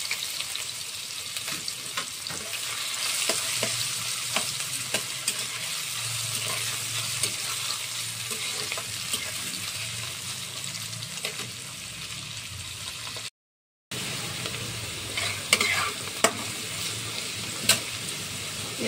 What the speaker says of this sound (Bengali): সবার আগে আলুগুলো দিয়ে দেবো, একদম ধীরে ধীরে করে আলু টুকরো করেছি আজকে।